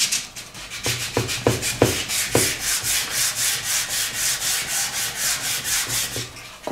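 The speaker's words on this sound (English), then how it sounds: "I used sandpaper between 180 and 300 grit, all by hand" Hand sanding a vintage wooden chair with fine-grit sandpaper, close rhythmic rasping strokes repeating steadily back and forth, a few sharper scuffs early on, with no talking.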